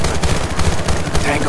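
Rapid gunfire in the video game Battlefield: Bad Company 2 forms a loud, dense burst of shots that continues throughout, with faint voices underneath.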